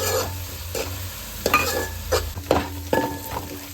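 Chopped onion fries in a pan for a crab curry, a constant close sizzle punctuated by several sharp scraping stirs of a spoon against metal, with no speech.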